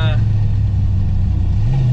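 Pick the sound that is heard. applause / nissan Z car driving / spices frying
nissan Z car driving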